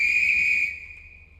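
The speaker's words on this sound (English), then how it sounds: "Whistle because the signal is still green." A train guard's whistle in the Roblox Stepford County Railway game, one long steady shrill blast that holds and then fades away, clear and alone.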